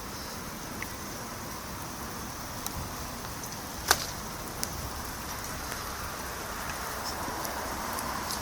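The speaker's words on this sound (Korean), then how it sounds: "빗방울이 조금씩 떨어지는데요." Light rain falls at a bus terminal in Yangpyeong, a soft continuous patter with a few sharper drop ticks over a steady outdoor hiss.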